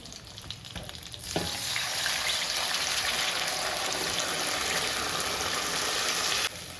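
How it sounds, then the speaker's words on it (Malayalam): Gravy is poured into a duck roast mixture frying in oil, and a loud, steady sizzle swells up right after and holds for several seconds before easing off, with a few clinks of a utensil early on. "ഗ്രേവി കളയരുത് ഇത് നമുക്ക് ആവശ്യം വരുമെന്ന് ഇതിൽ നിന്ന് കുറച്ച് നമുക്ക് ഒഴിച്ചു കൊടുക്കാം ഇതിലേക്ക്"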